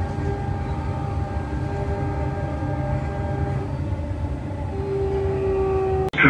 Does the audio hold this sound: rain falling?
no